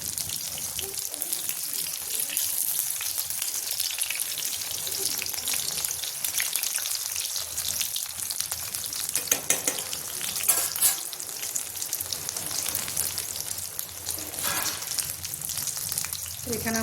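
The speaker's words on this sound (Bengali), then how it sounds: "কি সুন্দর ভাজা হচ্ছে আর ফুলছে" Bitter gourd leaf fritters deep-fry in hot oil, giving a steady, busy sizzle and crackle close by that carries on unbroken throughout.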